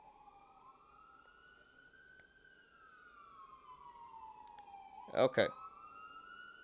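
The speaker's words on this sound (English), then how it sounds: "And here comes the ambulances." Ambulance sirens wail in the distance, a long rising and falling tone drifting past, with a brief loud clatter near the end and a single spoken word.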